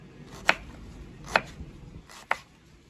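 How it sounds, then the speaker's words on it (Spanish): Three sharp, close knife strokes through an onion on a cutting board, evenly spaced about a second apart, with faint background between them and no talking. "ya tenemos aquí la cebolla rebanada"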